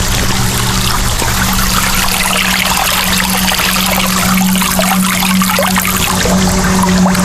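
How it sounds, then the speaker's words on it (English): Water pours steadily and loudly into the bowls of a three-tier patio fountain, a continuous splashing trickle with a constant low hum underneath. "Obviously water pouring into those 2 bowls"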